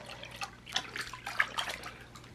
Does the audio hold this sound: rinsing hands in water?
yes